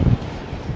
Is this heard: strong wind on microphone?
yes